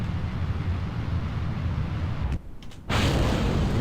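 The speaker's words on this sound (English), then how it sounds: "Oh, we have some explosions behind us" Solid rocket boosters separate with explosions in Kerbal Space Program. A steady, loud engine roar cuts out abruptly, a few short bursts follow, and then a strong roar returns.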